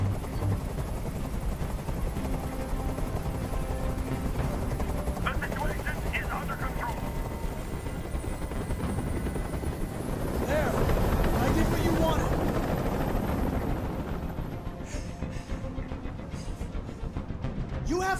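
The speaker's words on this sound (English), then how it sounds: "Tell that helicopter to get out of here!" A helicopter hovering overhead in the video game Detroit: Become Human, a constant rumbling rotor drone that persists throughout beneath tense spoken dialogue, with brief sharp sounds near the end.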